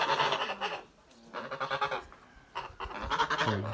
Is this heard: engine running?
no